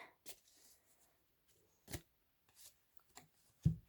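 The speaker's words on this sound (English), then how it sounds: "We'll try to shuffle again." A few short bursts of tarot cards being shuffled, crisp riffles separated by pauses, close by with no talking.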